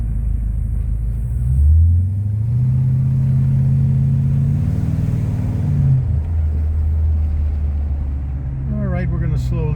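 A mint 1970 Cadillac Eldorado with an 8.2 liter engine rumbles along slowly, its deep, steady low idle-like drone swelling slightly as it drives, close and loud throughout.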